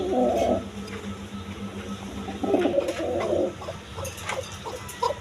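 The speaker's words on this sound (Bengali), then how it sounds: "দর্শকবৃন্দ দেখেন কোকা এই মাদিটা ডাকতেছে" A female Damascene pigeon cooing close by at a poultry farm, two low, throaty rolling coos separated by a pause, with faint chirps and small clicks in the background.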